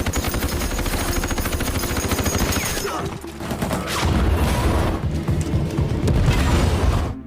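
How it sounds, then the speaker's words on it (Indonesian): Rapid gunfire bursts and heavy booms from a war film battle against German soldiers, with artillery blown up near Narvik; dense, loud, continuous shooting and blasts fill the whole stretch. "Saling tembak sempat terjadi sebelum mereka berhasil menghabisi tentara Jerman sekaligus meledakkan artileri yang ada di situ."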